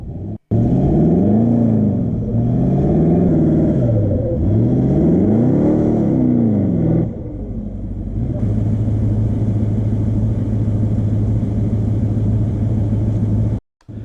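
A 4WD's engine revs hard while the vehicle is stuck in clay during a winch recovery, loud and close, the pitch repeatedly surging and falling, then settling into a sustained high drone before cutting off near the end.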